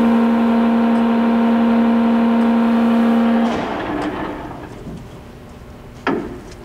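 A 42-inch Blanchard rotary surface grinder hums steadily with a strong low tone, then winds down as its six-speed gearbox is shifted to 25 RPM, leaving quieter machine noise and a single sharp clunk near the end.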